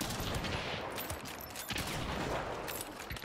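Rapid gunfire with explosive ammunition in the Hunt: Showdown video game, a dense continuous barrage of shots and blasts filling the whole stretch at steady loudness.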